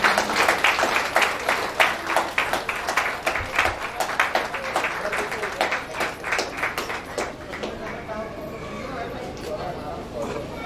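A crowd claps to welcome a senior guest at a company foundation day celebration in India, an uneven patter of hands that thins and fades over the final seconds, with voices talking underneath.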